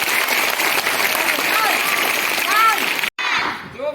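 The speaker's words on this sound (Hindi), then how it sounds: "एक बार ताली हो जाए।" School students at a yoga day session break into applause, a loud, dense clapping that runs for about three seconds, cuts off abruptly, then resumes more faintly with voices audible.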